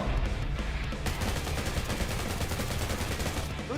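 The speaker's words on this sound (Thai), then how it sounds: "ไปลองปืนกลกันดีกว่า เฮ้ยมาปืนกล" Machine gun fire in the video game Undawn rattles in a loud, rapid, continuous burst of shots, heard up close across the whole stretch.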